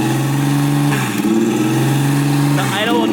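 A turbocharged Nissan 350Z engine idles just after its first start, a steady rough drone with a shifting pitch that rises near the end, heard up close over the whole stretch.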